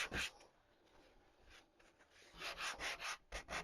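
Wood being hand-sanded for a door hanger, soft repeated rubbing strokes, faint and close, with a quiet pause in the middle before a quicker run of short back-and-forth passes.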